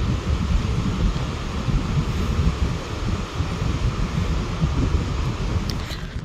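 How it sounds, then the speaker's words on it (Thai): Strong wind buffets the microphone at a dam viewpoint in Laos, a loud, continuous roaring rumble with gusty swells and no voices. "ลมพัดหลายพี่น้องเลย"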